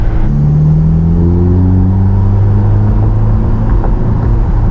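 Ferrari Roma engine accelerating on the road, a loud, steady interior drone whose rising tones sweep upward through the gears over road rumble, with no talking.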